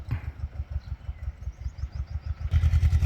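A two-cylinder mini tractor engine chugs in a fast, even, close-up thump while plowing in second gear, growing louder near the end.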